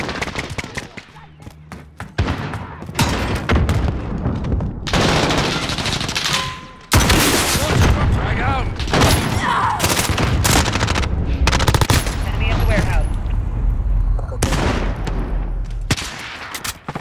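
Rapid automatic gunfire and bursts of shots from Call of Duty Modern Warfare Kill Confirmed multiplayer, loud and dense throughout, with brief pauses, layered with game voice callouts.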